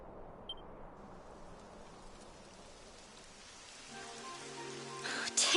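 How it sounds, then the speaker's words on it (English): Steady rain patter in the video game Dragon Quest XI fills the scene, quiet at first and building slightly, with a brief tonal blip and music swelling near the end. "It would have to go and start raining, wouldn't it?"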